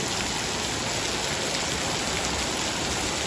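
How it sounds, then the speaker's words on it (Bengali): Rain in Malaysia pours as a constant, dense hiss of drops on surfaces, steady from start to finish with no talk. "খালি বৃষ্টি আর বৃষ্টি"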